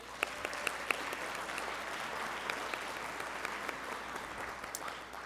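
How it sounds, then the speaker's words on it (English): An audience applauds at the HENAAC Awards ceremony, a sustained, even roar of many hands clapping, heard at a moderate distance without speech, with a few sharper claps standing out. "So a round of applause for that."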